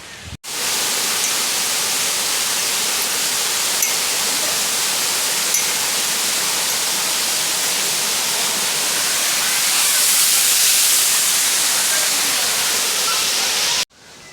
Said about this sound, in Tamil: சுற்றி நம்மளை சுற்றி அருவி தான் இருக்குது